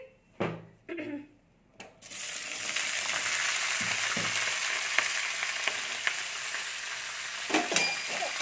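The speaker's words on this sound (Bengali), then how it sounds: "কড়াতে তেলটা গরম হয়ে গেছে, এর মধ্যে আমি ফুলকপি আর আলুটা নিয়ে ভেজে নিচ্ছি" Cauliflower and potato pieces hit hot oil in a wok with a sharp clatter, then a steady, loud sizzle of frying runs on alone with a few small pops and scrapes.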